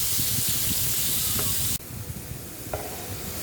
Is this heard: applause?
no